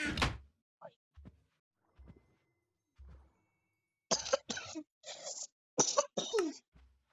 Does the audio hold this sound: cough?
yes